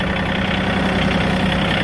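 Tractor engine idling steadily at close range, a continuous low, even rumble with no gaps and no talking throughout.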